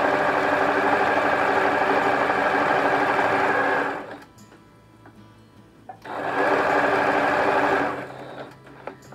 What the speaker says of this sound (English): you wanna get that fabric down underneath there. And let's sew around